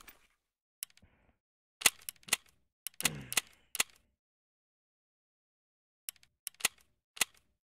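MP5 fitted with drum magazines firing in the Factory map of Escape From Tarkov: sharp, quiet gunshots come in short bursts of two to four, with one longer rattling burst, separated by pauses of silence.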